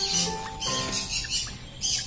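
A rosella parrot in a cage at an animal park squawks in several loud, harsh bursts spread across a couple of seconds, with bird chatter in the background.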